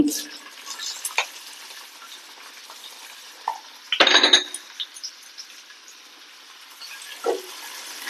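Finely chopped onion going into hot oil in a pan for chana palak masala, a quiet low sizzle with a brief louder burst and clink of a spoon, then a faint steady fizz.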